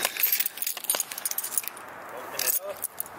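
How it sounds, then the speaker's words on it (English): Car keys jangle and clink close by in short bursts, loud and bright. A voice speaks briefly over the jingling. "Oh. I got the keys."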